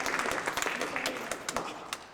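Brief scattered clapping from an audience at a poetry reading, a sparse patter of hands mixed with crowd murmur, fading rather than building.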